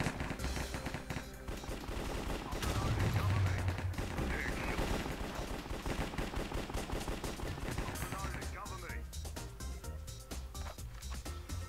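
Rapid AK rifle gunfire in a Minecraft Cops and Crimes minigame, sounding as repeated sharp game shots over dense, busy game audio, loudest early on and continuing throughout.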